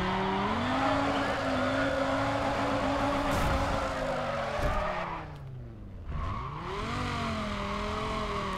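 Car drifting and skidding around a narrow-walled circuit in Need for Speed ProStreet: a steady engine drone with wavering pitch and continuous tire squeal, briefly dropping and dipping around the midpoint before the revving resumes, loud and close.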